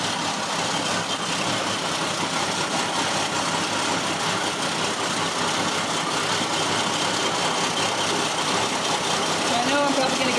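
A 1975 AMC Pacer idles at a museum, its engine giving a steady, continuous mid-to-low rumble with a constant level throughout, with some speech present.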